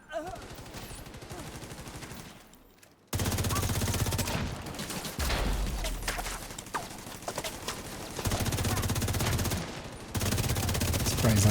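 Shock rounds fire in a video game in long, dense rapid bursts, loud and close, broken by short pauses, with a brief lull before the shooting resumes.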